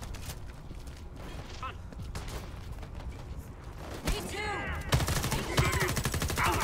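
Video game gunfire in Homefront: The Revolution, a dense, continuous rattle of shots and mechanical clatter throughout, growing busier and louder near the end amid chaotic combat noise.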